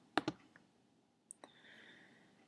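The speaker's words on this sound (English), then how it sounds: "by clicking this icon" A computer mouse clicks while selecting an icon in project software: a quick close pair of sharp clicks, then a single faint click later, against a quiet room hum.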